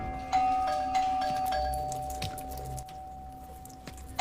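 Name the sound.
doorbell ringing repeatedly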